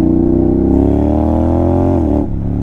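A Honda X-ADV scooter accelerates in second gear on Paris streets at night. Its engine drone climbs steadily and loudly for about two seconds, then drops sharply as the revs fall.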